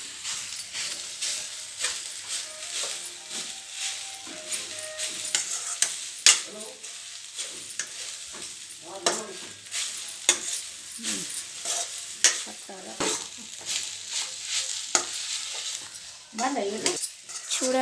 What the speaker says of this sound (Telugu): ఇలా కొంచెం బ్లాక్ కలర్ వచ్చేదాకా వేయించుకోవాలి.